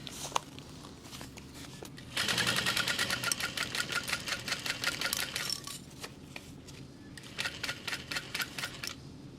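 A sewing machine with a long stitch length sews a Riva Mini backpack in two close, rhythmic bursts of rapid clattering, separated by a quieter pause with low background hum.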